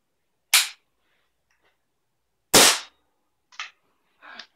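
Rifle shots fired at a nail to drive it into a wall for hanging paintings: two sharp, loud cracks about two seconds apart, followed by quieter knocks and rattles, with no talking.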